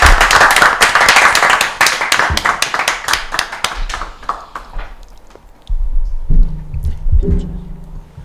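A room full of people at a community gathering claps together, dense hand claps in the first five seconds thinning into scattered final claps, followed by a short stretch of low rumbling noise.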